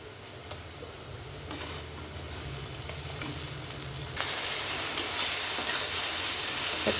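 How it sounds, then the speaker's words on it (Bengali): Ginger-garlic paste frying with onions in a pan for a fish-head vegetable ghonto, a steady close sizzle with a few sharp stirring ticks, growing louder partway through, no talk. "এবার আদা রসুনের পেস্ট দিয়ে দেব।"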